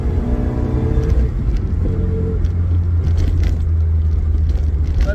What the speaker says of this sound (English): exhaust sounds good, and I'm cool with that.